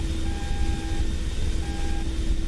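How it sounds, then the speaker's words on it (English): Steady electronic tones with short radar warning receiver beeps recurring in pairs and separated slightly, from multiple radars in an Mi-24P Hind flight simulator, over a low background hum. "When detecting multiple radars, you'll see and hear beeps separated a little bit."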